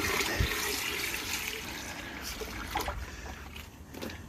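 Water from a hose runs and splashes steadily, rinsing ash off IC chips, with a fairly quiet, continuous wash and a few small splashes.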